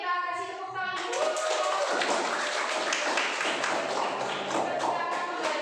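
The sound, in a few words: class applauding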